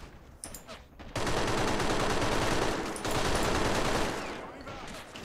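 Rapid sustained gunfire from a sniper and assault squad in a Company of Heroes-style strategy game match, a dense rattling burst lasting several seconds with a brief gap, loud and close.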